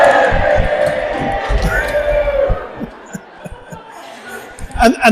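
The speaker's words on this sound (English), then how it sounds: "And they all shouted." A crowd of people gives a loud, sustained shout in a church retelling of the fall of Jericho, voices swelling together then fading into murmurs, with thumping and a final burst of noise.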